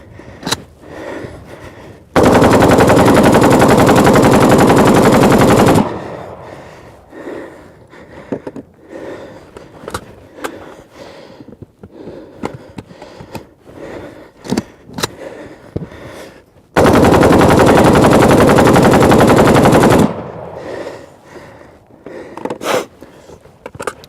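An AK assault rifle fires two long, loud, sustained bursts of automatic fire, each lasting several seconds, separated by quieter handling noises, clicks and breaths.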